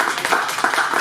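An audience at a crypto wallet presentation applauds: a dense, steady patter of many hands clapping for about a second, loud and close, with no speech over it.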